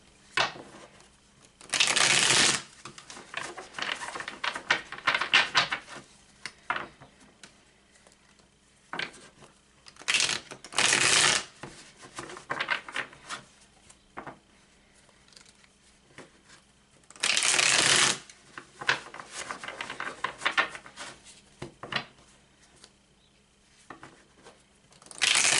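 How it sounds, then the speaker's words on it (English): Tarot cards are shuffled in several bursts of brisk riffling and crisp flutters, each lasting a second or two, with quieter handling, tapping and shuffling between them and no talking. "Give this a good shuffle."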